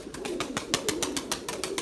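White pigeons being flown in a Turkish flying session give off a steady rhythm of broadband flaps or claps, roughly eight to ten beats over two seconds, over a low cooing hum, fairly close and moderately loud.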